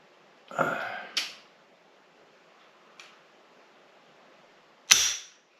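A trigger pull gauge tests the heavy, military-style trigger of a Remington 6.8 SPC rifle: two close sharp clicks, a faint tick, then one loud crisp snap of the trigger breaking, all close and isolated.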